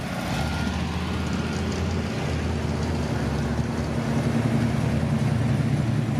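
A classic car engine runs at a steady idle at a car cruise, a continuous low rumble with broadband exhaust noise, fairly loud and close, and no one talking.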